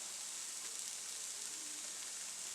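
Sesame oil sizzling in a hot pan for shrimp fried rice, a faint, steady crackling hiss that holds evenly throughout with no talk.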